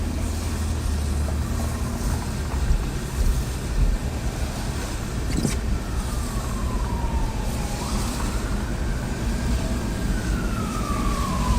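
A distant emergency vehicle siren, police or ambulance, wails in a long rising and falling sweep through a city street during ICE raids in Minneapolis–St Paul, faint beneath heavy wind rumble on the microphone.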